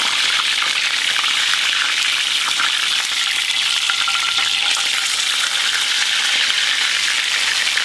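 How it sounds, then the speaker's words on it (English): A steak searing in a frying pan of hot oil makes a loud, dense, continuous sizzle that holds evenly from start to finish, close up and with no voices. "Right now we're just getting a good sear on the bottom."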